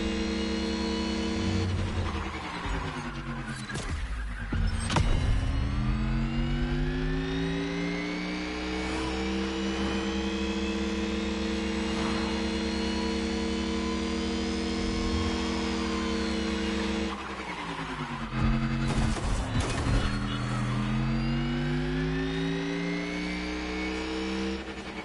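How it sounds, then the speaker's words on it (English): Off-road racing cars in a video game, a sustained engine drone that rises and falls through rev changes and gear shifts, with louder bursts of acceleration near the start and again around the middle, no voices. "I'm sure you've missed the thrill of off-road racing."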